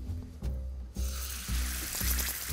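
Filet mignon sears in a pan on an induction hob set high, giving a continuous close sizzle that swells midway, while soft, regular low thumps pulse underneath.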